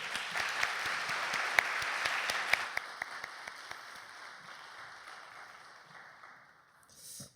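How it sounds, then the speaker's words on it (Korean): Young adult congregation at a church youth service claps after a sermon, steady moderate applause with a few sharp distinct claps, fading gradually to near quiet before a brief swell at the end. "하나님께 영광을 올려드리며 우리 한 박수로"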